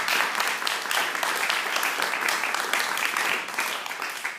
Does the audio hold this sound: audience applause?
yes